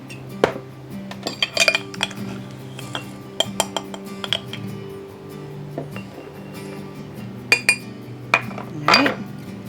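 Sea salt is scooped twice with a quarter-cup measuring cup in a home kitchen, giving scattered metallic clinks and taps against the container, close and fairly quiet.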